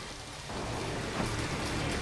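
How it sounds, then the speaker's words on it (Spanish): Heavy rain pouring inside a metro station, a dense, loud, continuous roar of water that grows stronger after a brief lighter opening. "estaba lloviendo prácticamente adentro de la estación."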